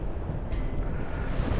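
Strong wind buffeting outdoors, a steady loud rushing roar across the whole short stretch with no voices.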